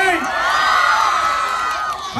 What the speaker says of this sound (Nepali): एकचोटि जोरदार ताली बाबुको लागि